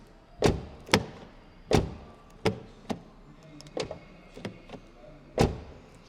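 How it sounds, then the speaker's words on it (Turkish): Doors of an MG4 Luxury electric car are shut several times, each a sharp, solid thunk with a short tail, spaced irregularly about half a second to a second apart, close and loud, with no talk. "sizlere ASMR tadında burada kapı ses dinletmek istiyorum"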